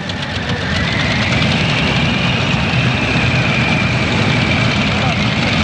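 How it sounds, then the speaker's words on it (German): Pulling tractor fitted with four engines idling together at a 1996 tractor pulling event in Sottrum, a loud, steady, low rumbling drone that continues throughout with a commentator speaking over it. "Laufen alle vier Motoren."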